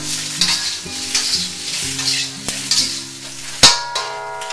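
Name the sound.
stir-frying jumbo shrimp with salt and pepper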